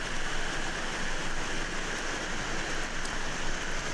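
Heavy rain pours steadily over Karachi, a dense, continuous hiss of downpour on streets and surfaces, even and unbroken throughout, with no voices.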